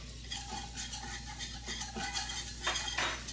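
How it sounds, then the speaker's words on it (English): A sturdy old cutlery knife scrapes and cuts at the crusty residue left by uncured bacon in a pan of oil and butter, producing repeated scratchy strokes over a faint steady sizzle. "Using this sturdy old cutlery knife, you see I'm cutting into the crustiness of what the bacon created."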